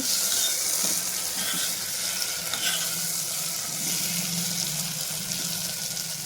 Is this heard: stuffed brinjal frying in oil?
yes